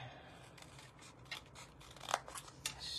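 Scissors snip through a paper strip in several quick, close cuts, with a sharp cluster near the middle of the clip; no one speaks over the cutting.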